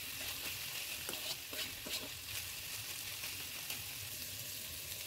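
Chopped tomatoes fry in hot oil with ginger and garlic paste for a chicken curry, giving a steady, close sizzling hiss with a few soft stirring scrapes, no voices.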